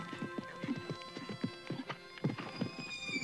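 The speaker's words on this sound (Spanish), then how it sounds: "rompe la gasa verde de la noche con su relincho estremecedor" A horse neighs with a shuddering whinny against a night setting, heard over repeated hoof clip-clops that fall in an uneven rhythm close by, with no talk.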